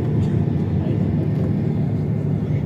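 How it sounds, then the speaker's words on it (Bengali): SkyUp airliner starting its takeoff roll from the very end of a Bangkok runway, a steady loud broadband engine roar with a deep low rumble throughout, and a voice talking over it. "একদম রানওয়ে শেষ মাথা থেকে সে দৌড় শুরু করছে।"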